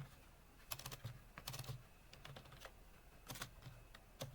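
Keys clack on a computer keyboard as Python code is typed, coming in quick irregular bursts of keystrokes with short pauses between them. The sound is close and quiet, with no talking.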